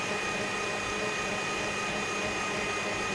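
An electric mixer runs steadily on sponge cake batter for butter cake, a continuous close whirring drone that fills the whole stretch without pause.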